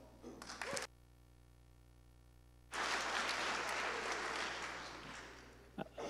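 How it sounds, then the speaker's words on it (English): Audience applause for a speaker at the BruCON security conference: a short burst of clapping, a sudden dropout to near silence, then a longer, fuller wave of applause that slowly fades near the end. "So please give him a round of applause."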